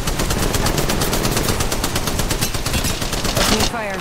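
Continuous rapid automatic gunfire from the Apex Legends Mobile video game, a dense, loud stream of shots that fills the whole stretch without pause, with a faint electronic chirp near the end.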